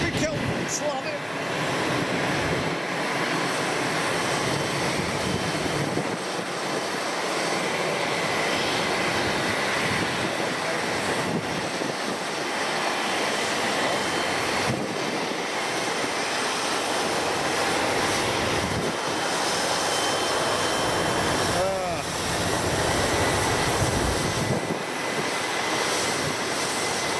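A Boeing 777X jet arriving at Boeing Field (King County International Airport), a steady broad roar blended with heavy wind buffeting that swells and eases throughout, with no clear voice on top.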